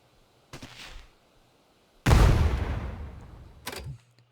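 Fireworks launching in the theme-park game Planet Coaster 2: a short muffled burst, then a loud booming whoosh that rumbles and fades, and a brief third pop near the end, with quiet gaps in between.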